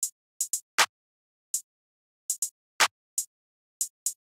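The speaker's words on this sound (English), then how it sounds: "the clap and the hi-hats are sounding like this" Atlanta-style clap and hi-hat drum pattern in a trap beat: sparse, sharp bright hits in an uneven rhythm, with a couple of fuller clap strikes standing out, dry and close with silence between.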